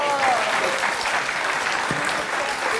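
TV studio audience applauding, a short burst of continuous clapping at moderate level with voices mixed in.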